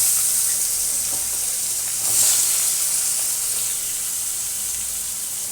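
Thin, long-cut potato strips drop into hot oil with fried tempering spices for a Bengali hilsa and potato curry, setting off a steady, close bright sizzle that swells briefly as they go in, with no talk.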